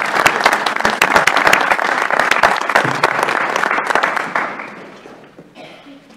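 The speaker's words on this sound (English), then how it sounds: "let's give our presenters a round of applause" Audience applause at a UW System Board of Regents meeting, honoring presenters: dense, steady clapping from a room full of people that holds strong for several seconds, then thins and fades away toward the end.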